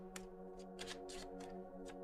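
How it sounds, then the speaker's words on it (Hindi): Tarot cards are shuffled by hand, giving a quiet, close series of soft riffling bursts that come in an irregular rhythm for about two seconds. "शफल कर लेते हैं कार्ड्स"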